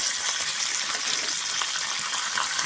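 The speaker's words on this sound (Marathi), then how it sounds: "तेल तापलेलं आहे, तेलामध्ये पहिला कढीपत्ता टाकायचा, थोडंसं जिरं" Curry leaves and cumin seeds hitting hot oil for a Marathi-style soup, a dense close hissing sizzle that stays steady and loud throughout with no talking.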